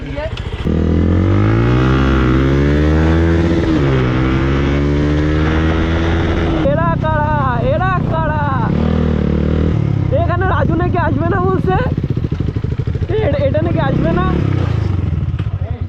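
A motorcycle engine revs hard and rises in pitch as the rider tries a wheelie, staying loud and close throughout with sustained, wavering engine tones and voices talking briefly in the background.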